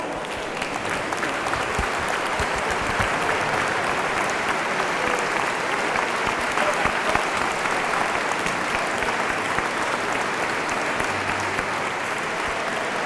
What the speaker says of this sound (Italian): Io penso meriti un ultimo applauso anche Paolo.